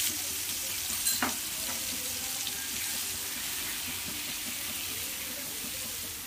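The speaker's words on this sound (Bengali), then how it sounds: "মশলাটাকে আমি 1 মিনিট মতন কষিয়ে নেব মিডিয়াম আঁচে" Spice paste cooking in a pan over medium heat gives a steady soft sizzle. One sharp clink comes early, and no one speaks.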